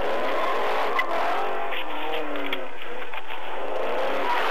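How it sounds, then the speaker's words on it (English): A car speeds off from a police squad car on Van Dyke in Warren during a pursuit, a loud, steady rushing engine and road roar with a brief tire squeal, recorded from a dash camera with no talking. "The driver hits the gas and nearly slams into the squad car as he runs"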